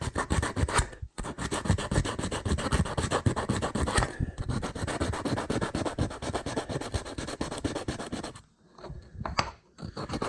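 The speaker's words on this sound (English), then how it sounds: "Sandpaper. Take some of the paint off of this." Sandpaper rubs paint off an old mortise lock in fast, loud back-and-forth strokes close up, continuous scratchy rasping with two short pauses near the end.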